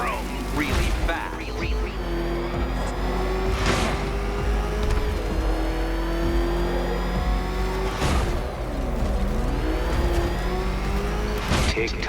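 Batmobile engine in the Batman Arkham Knight video game revving and roaring through repeated accelerations, with a voice speaking over it and sharp mechanical clanks along the way.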